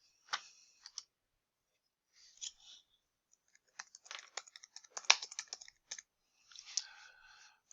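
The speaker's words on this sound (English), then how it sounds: "So I type in interest rates." Typing on a computer keyboard, quiet scattered key clicks in short bursts with gaps between them, close and faint with no talk.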